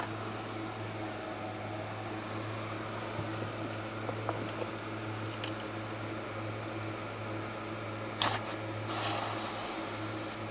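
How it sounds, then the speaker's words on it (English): A CO2 cartridge tool used in HVAC service fires a short, loud hissing burst of gas near the end, over a steady low mechanical hum. "you hit the trigger to fire CO2."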